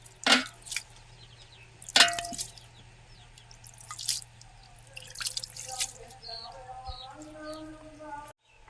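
Attar-scented water sprinkled over layered homemade biryani rice: a few close splashes and drips with light clinks, in short separate bursts before it trails off into quiet.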